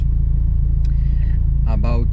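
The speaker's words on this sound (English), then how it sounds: "I do love the sound of this car" A Mitsubishi Lancer Evo 5 fitted with a rebuilt Evolution 7 engine idles with a loud, steady low rumble, while a voice talks briefly over it near the end.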